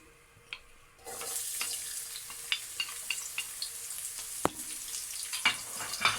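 Onion frying in a pan of oil, a steady close sizzle that swells up suddenly as it goes in, with scattered scraping and tapping as it is stirred.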